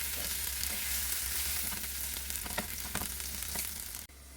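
A second batch of prawns fries in hot oil with a dense, loud, crackling sizzle and bursts of spatter. A few stirring clicks sound over it, and the noise cuts off abruptly near the end. No voices are heard.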